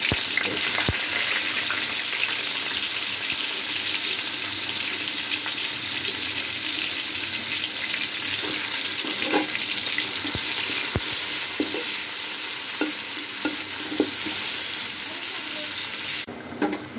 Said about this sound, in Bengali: এখানে বিরিয়ানি মাংস কষিয়ে নিচ্ছি, টমেটো দিয়ে দিয়েছি সসের কাজ করার জন্য